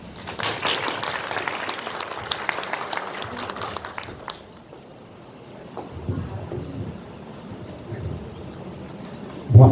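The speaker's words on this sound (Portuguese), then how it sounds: "uma salva de palmas ao nosso convidado" Audience applause for a guest speaker at a literary commemoration event, dense clapping for about four seconds that thins and fades into quieter room noise, with a faint voice near the end.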